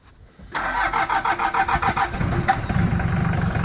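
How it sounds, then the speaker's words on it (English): A 1985 Dodge Ram 50 diesel pickup engine cranks with several rhythmic turns over about two seconds, then catches and settles into a loud, steady rumbling idle. "We're going to go ahead and fire this truck up for you so you can hear it."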